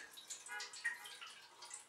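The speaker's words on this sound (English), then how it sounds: "Pour that in there." Water trickling and splashing softly as it is poured into the pan of a Swan bread-making machine for French bread, a faint, brief continuous pour with no voices.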